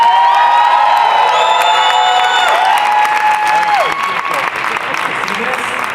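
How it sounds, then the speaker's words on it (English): Audience applause and cheering for a child being treated for leukemia, loud clapping mixed with whoops and shouts, with a strong whistling or ringing tone over the first few seconds before the crowd noise settles and fades. "Can we give her a round of applause?"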